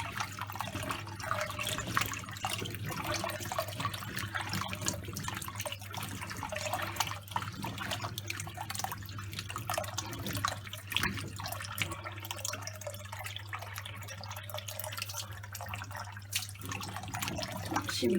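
Pumpkin for a crisp lime-cured pumpkin dessert is washed under running tap water, a steady hissing flow and splashing that lasts the whole time, with a constant low hum underneath.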